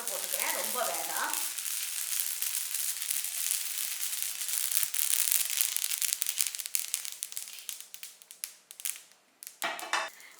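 Five dried red chillies fry in a pan, a continuous close sizzle with crackling bursts and a few scraping stirs, trailing off into sparser pops toward the end; a brief voice opens the clip.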